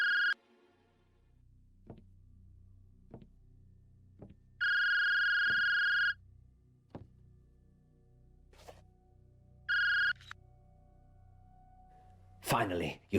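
A telephone rings in the video game Dark Nights with Poe and Munro, with two electronic ring bursts separated by quiet clicks and ticks, then a brief crackle at the end, fairly clear with no talking over it.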